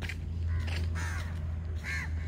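Crows caw a few times at moderate distance, short harsh calls spaced irregularly over a steady low background hum, with no speech.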